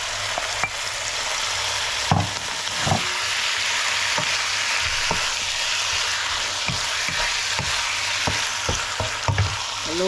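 Turkey pieces for a caldereta sizzle steadily in a hot pan, with scattered scraping knocks from a spoon stirring them, close and alone with no talk.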